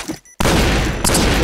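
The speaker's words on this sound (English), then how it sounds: "Bomb exploded" A bomb detonates in an online shooter game, a loud full-band blast that cuts in abruptly after a brief quiet moment and sustains as a dense rumbling roar with a second surge near the end.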